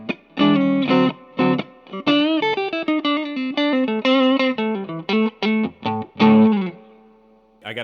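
Clean electric guitar through a tube amp on its clean channel, no pedals, plays chords and melodic phrases, bright and full with a touch of reverb, alone with no talking.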